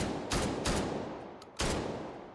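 Shotgun blasts in a video game, three loud sharp reports spaced unevenly over a couple of seconds, each with a brief ringing tail, heard alone without talk.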